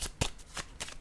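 Playing cards being shuffled for a card reading, a few quick riffling bursts close by and fairly quiet, with no talking over them.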